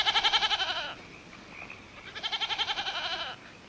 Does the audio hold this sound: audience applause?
no